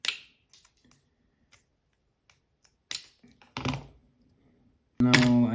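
Small cutters snip capacitor leads during a 3.5-inch freestyle FPV drone build, giving a few sharp, close clicks and snaps scattered among quiet handling noises on the bench.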